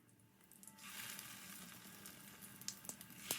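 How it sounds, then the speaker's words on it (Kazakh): Chicken cutlets sizzling in a little hot oil in a pan, a soft steady crackle that builds after a quiet start, with a few sharper pops toward the end. "Табаға аздаған майды құямыз, қыздырамыз және ас қасықпен котлетімізді саламыз"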